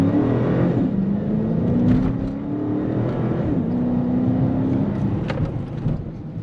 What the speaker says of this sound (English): This car sounds heavenly, and I am enjoying every second of it.